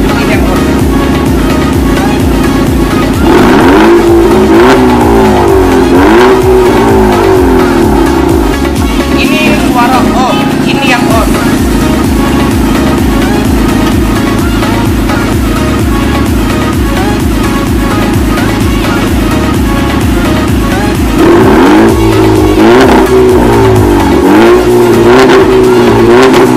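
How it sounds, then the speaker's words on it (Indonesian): A Volkswagen Golf Mk6 TSI engine with a DSG gearbox revs loudly and repeatedly, pitch climbing and falling in sharp bursts, then settling into a steady idle before revving again. "Ini untuk suara VW langsung gua tampilin aja ya"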